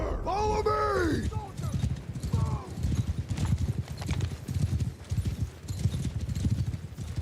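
Cavalry horses galloping in the Warsails video game, a dense run of rapid hoof clip-clops across the whole stretch, with a horse's whinny early on and shouted game voices over the hoofbeats.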